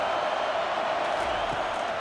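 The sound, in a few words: stadium crowd cheering during a college football game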